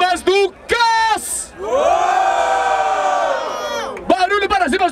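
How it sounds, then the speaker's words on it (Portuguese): A crowd at a rap battle in Barueri, São Paulo, roars and shouts in a long, loud, sustained burst of cheering. A host's amplified voice speaks just before and after it. "Barulho para as rimas do Cass!"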